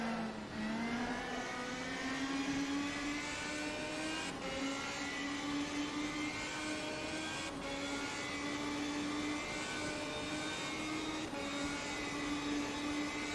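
Race car engine in the rFactor 2 racing game drones steadily throughout at high revs, with a strong rising engine tone, while the car slides off the track; continuous and loud with no talking.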